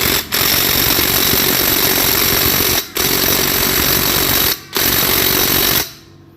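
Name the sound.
impact wrench tightening a motorcycle CB clutch nut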